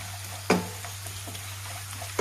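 Curry leaves fry in a pan for ghee rice, giving a faint, steady sizzle over a low hum, with a soft knock of a stir near the start and another at the very end.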